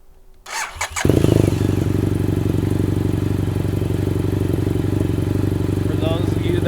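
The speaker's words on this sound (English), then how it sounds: "Alright, now let's start the bike up." A BMW F800GS motorcycle with an aftermarket exhaust cranks briefly, fires up and settles into a loud, steady close-range idle that holds to the end.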